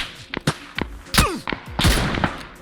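Gunshots in the video game PUBG: a handful of sharp, loud cracks spaced irregularly, some echoing with a whizzing tail, fired at close range in quick succession.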